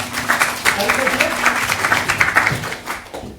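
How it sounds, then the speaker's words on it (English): A lecture audience at a light and sound quiz show gives a short round of applause. The clapping is close and moderately loud, with a voice talking over it. "A round of applause for my..."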